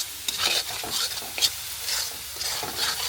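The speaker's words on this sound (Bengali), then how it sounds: "মশলাগুলো নেড়ে চেড়ে ভালোভাবে কষিয়ে নিব।" Ground cumin, chili, turmeric and salt fry in a pan for a fish and potato curry, a continuous close sizzle broken by repeated scraping stirs of a spoon.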